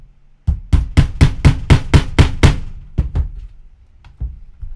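A mallet strikes a four-prong pricking iron into leather in a quick run of about nine sharp, close thunks, then a few slower, spaced blows.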